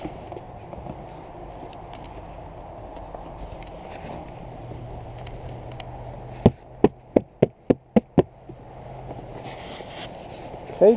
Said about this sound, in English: Got some live bees here.